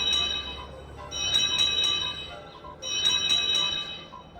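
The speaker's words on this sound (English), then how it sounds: "Yes, I'm very special, having a bell instead of a whistle." Toby the tram engine's bell from a Thomas and Friends video game rings in two quick bursts of bright, clanging strokes separated by a short pause. The ringing is close and clear, with little else around it.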